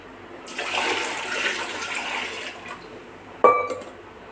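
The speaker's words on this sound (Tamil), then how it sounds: "இப்போ அதுக்கு தேவையான தண்ணி ஊற்றிக்கிடலாம்." Water is poured steadily into a pot of washed palmyra sprouts being readied for boiling, a close splashing rush lasting a couple of seconds before a brief clink of the vessel.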